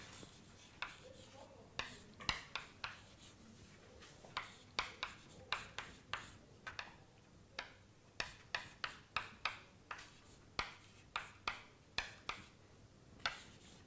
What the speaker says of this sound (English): But anyway, I write it for you.